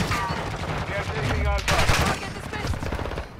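A modded gun firing in a Call of Duty video game, with steady bursts of rapid shots that swell in the middle of the clip, while faint voices sit under the fire.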